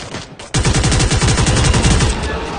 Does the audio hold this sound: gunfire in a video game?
yes